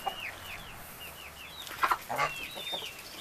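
Chickens in a barn cluck and squawk excitedly, a string of quick rising calls followed by a few louder, sharper cries, moderately close and fairly quiet overall.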